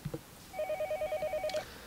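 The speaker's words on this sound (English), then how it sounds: "It was then I noticed that the phone was ringing." A telephone rings faintly in a quiet room, a rapid electronic trill of about ten short even pulses in one burst.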